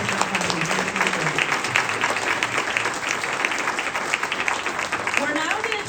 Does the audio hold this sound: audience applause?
yes